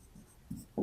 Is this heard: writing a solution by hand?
yes